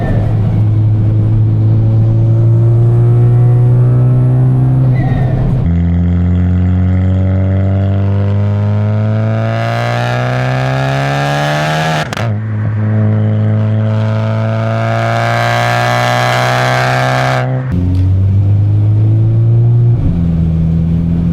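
Exhaust note of an MK6 VW GLI with a big turbo while driving, loud and close, with sustained engine drone rising through the gears in repeated pulls and brief drops at the shifts, no talking.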